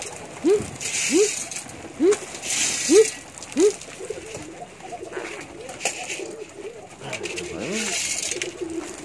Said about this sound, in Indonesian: merpati kesayangan kita.